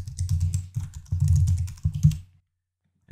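Password keys tapped on a computer keyboard in a quick burst of close, clicky strokes for about two seconds, then silence before one last keystroke.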